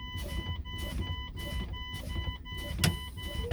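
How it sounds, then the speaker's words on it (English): Air brakes on a truck being fanned down until the valve sets at around 30 psi: repeated hissing air bursts, then a sharp, loud pop of the valve near the end. "Down around 30 psi, our valve should set."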